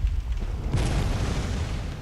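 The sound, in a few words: cannon fire in a video game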